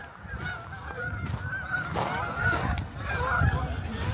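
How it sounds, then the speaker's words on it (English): Geese honk repeatedly in a loud, overlapping chorus while flying over Rainy Lake in bitter winter cold, with calls rising and falling across the flock. "The geese obviously do not mind the cold of this water either"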